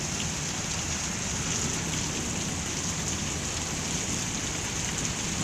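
Steady rain falls in Phoenix, Arizona, a dense, even hiss of drops on surfaces that holds constant throughout without pauses or voices.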